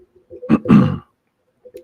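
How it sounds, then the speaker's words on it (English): A single person clears their throat close up, a short gruff rasp followed by a brief quiet pause. "Clear my throat."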